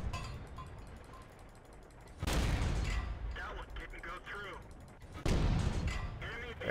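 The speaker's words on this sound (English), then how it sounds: "Use this machine gun cannon on him." Machine gun cannon on a tank in World of Tanks, firing two loud, heavy shots about three seconds apart, with battle rumble and a voice talking throughout.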